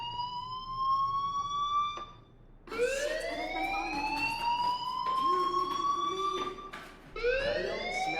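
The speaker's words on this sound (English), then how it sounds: "do you hear that fire alarm?" An electronic alarm in Life is Strange Remastered wails in rising, sweeping tones, repeating in several long bursts with short pauses between them, clear and fairly loud with no speech.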